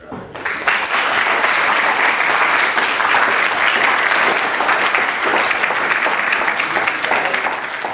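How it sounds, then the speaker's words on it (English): Loud, dense applause from an audience for teachers at a student government day event, starting abruptly and holding at full strength for several seconds. "I think y'all should give a big round of applause to your teachers"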